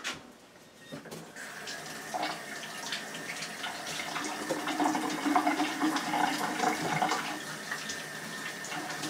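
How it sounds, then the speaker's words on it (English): Hands are washed under a running tap: a steady, close rush of water starts after a brief quiet moment and continues with light splashing and fluctuation, with no talking. "Let me wash my hands."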